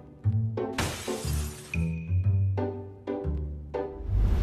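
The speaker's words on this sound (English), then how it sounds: "When security at a train station found a glass door was broken, they decided to check the CCTV footage." A glass door at a train station shatters in a loud, sudden crash, followed by scattered tinkling and further breaking impacts over several seconds, recorded on security camera footage with no voices.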